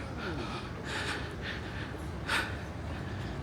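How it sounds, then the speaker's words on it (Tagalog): Heavy, breathy panting from someone out of breath after a long walk to Tokyo Tower, with a few louder gasping bursts close to the mic over steady outdoor city noise. "Yun nga guys, hinihingal pa ako."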